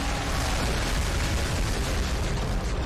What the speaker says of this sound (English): In a very big explosion.